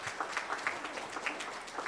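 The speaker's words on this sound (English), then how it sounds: "Let's give all of the families a round of applause for being here today." Applause for families gathered at a pinning ceremony, a group clapping warmly in a room, heard fairly faint and at a distance, with uneven bursts throughout.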